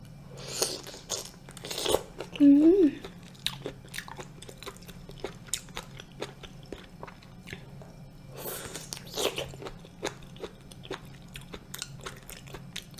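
Someone bites into fresh shrimp with a shredded carrot salad, several close crunchy bites and wet chewing repeating through the clip, with a brief louder squeak early on and no talking.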